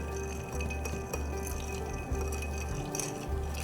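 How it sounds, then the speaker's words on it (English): A bar spoon stirs an Old Fashioned in a mixing vessel with ice and melt water, giving a steady, continuous swirling with faint glassy clinks, close and without talk. "You're gonna put the flat of your spoon up against the base of your vessel, and that's where you're going to agitate everything."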